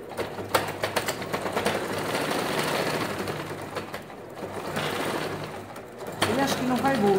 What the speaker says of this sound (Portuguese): E eu vou costurar em linha reta aqui